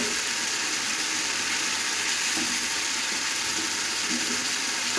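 Marinated coral fish, coated in spices and red chilli powder, fries in a pan with a steady, dense sizzle and crackle that holds evenly throughout, with occasional faint clinks beneath.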